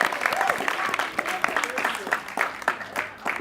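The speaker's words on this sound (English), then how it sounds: "so can we have a round of applause for him?" Audience applause at a community volunteer awards evening for an ex-Deputy Mayor, a crowd clapping steadily with sharp individual claps standing out, a voice talking over it.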